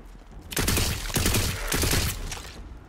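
Gunfire bursts from the fantasy shooter Tiny Tina's Wonderlands, a loud dense volley starting after a brief lull and running nearly three seconds with two clustered rapid strings of shots.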